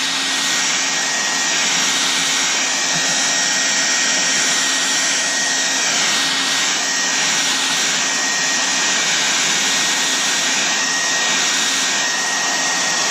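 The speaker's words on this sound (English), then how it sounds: "Go over it with a heat gun, and then this way you could wrap the corners a little bit better" A heat gun blows over vinyl wrap on the door handles of a 2014 Chevy SS, producing a loud, constant rushing roar that holds steady throughout.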